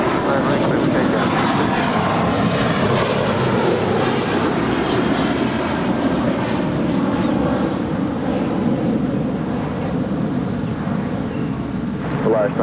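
Airliner rolling for takeoff on runway 25 right at LAX, a loud steady broadband engine roar with wind buffeting the microphone, holding strong throughout, with voices faintly in the background.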